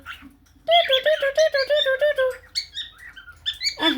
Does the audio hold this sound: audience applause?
no